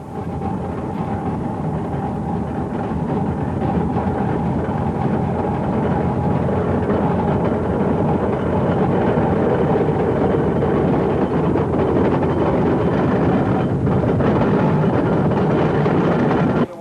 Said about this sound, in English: the very nice basic layout of the single-cylinder engine